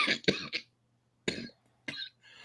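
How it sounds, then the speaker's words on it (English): A person coughs in a few sharp bursts: a quick double cough, then two more single coughs after short pauses, close and dry with a faint hum underneath. "This cough won't go away."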